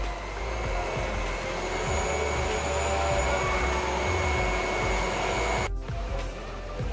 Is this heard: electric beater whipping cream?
yes